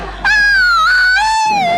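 A woman's high, sustained scream in a domestic comedy scene, loud and close, wavering in pitch over about a second and a half with a brief dip partway.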